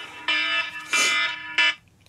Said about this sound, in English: that's my alarm, and I apologize for that because I forgot to turn the thing off